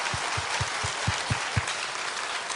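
Church congregation at a revival festival applauding, a dense wash of clapping with a few louder claps standing out, steady and moderately loud throughout.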